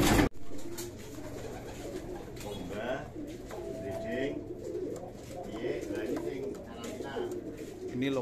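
Soft cooing of racing pigeons and bird calls fill a pigeon loft, low murmuring tones repeating steadily, with faint voices in the background.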